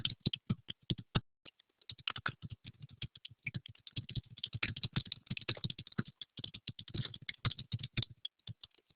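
Steady computer keyboard typing, quick irregular clacks of keys pressed close by with brief pauses, no voices.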